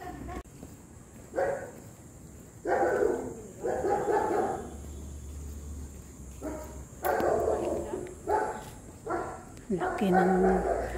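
A dog barks several times in short bursts at a moderate distance, with outdoor background noise and a person talking in between.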